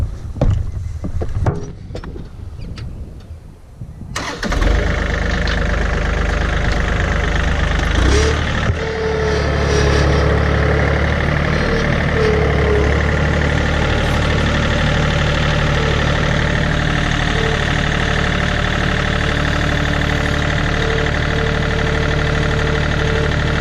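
Compact tractor engine straining under load while lifting a log, a steady loud droning rumble that starts abruptly after a few seconds of quieter clatter and holds constant and close for the rest.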